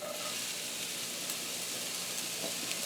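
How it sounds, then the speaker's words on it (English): Onion sizzles in olive oil in a hot pan, a soft, even crackle with no talk, steady throughout. "the little bit of onion we added is now sizzling"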